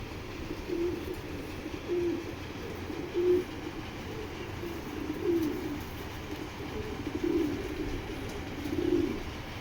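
Foreign-breed pigeons, including a female kept in a loft, coo in soft low repeated phrases spaced a second or two apart over a constant background hum, with no voices.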